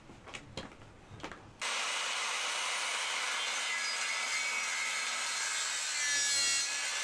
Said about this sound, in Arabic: جايب منشار ديال بوش